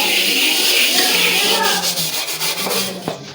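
A burnt metal pan scrubbed clean in a rough, steady rubbing rhythm, close and fairly loud, with quicker scraping strokes toward the end and no talking.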